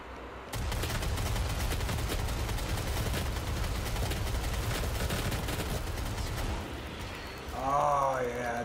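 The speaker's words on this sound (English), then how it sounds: "chain gun is so satisfying" A chain gun fires in the video game Doom as a continuous rapid burst of loud gunfire that lasts several seconds, then cuts off, followed by a brief stretch of other game sounds.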